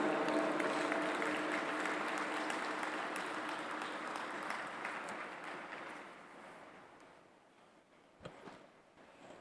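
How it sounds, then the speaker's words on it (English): Audience at an interfaith forum welcome session in Pune, India, breaking into a big round of applause that starts loud and full, then gradually thins and fades to scattered claps near the end. "Please give a huge round of applause to Acharya Lokesh Muniji."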